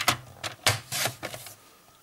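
Several quick snips and cutting strokes through paper along a cutting line while making a gift pouch, close and crisp, ending in quiet.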